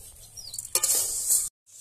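Rice grains being dry-roasted and stirred in a hot pan, a soft scraping rattle that swells into a louder, steady sizzling stir before cutting off abruptly, no voices.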